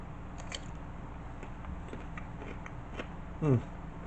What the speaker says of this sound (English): The carrot has maintained some good crunch.